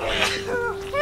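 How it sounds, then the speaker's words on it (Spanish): A single close, loud sneeze bursts out from a person indoors, followed by a brief breathy vocal sound. "Voy a estornudar."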